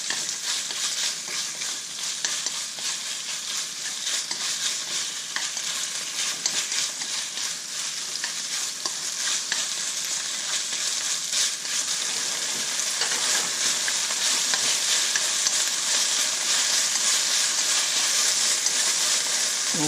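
Beef stir-frying with broccoli in a hot pan, a continuous bright sizzle and crackle lasting the whole stretch, close and steady with no talking.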